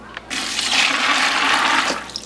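Water is poured over grain pellets in a container to prepare a substrate for enoki mushroom inoculation. A loud, close, continuous rushing splash lasts about two seconds with no talk.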